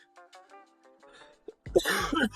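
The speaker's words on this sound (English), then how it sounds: "This nagging cough will just not go away." A faint voice gives way to a sudden loud, harsh, nagging cough burst near the microphone, rough and throaty, lasting under a second.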